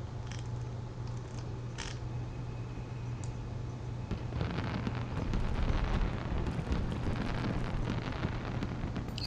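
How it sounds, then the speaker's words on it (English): Fireworks bursting in the space game EVE Online, a steady hissing, crackling roar of fizzing explosions that swells louder midway and stays dense to the end, with no talk. "It's just the fireworks."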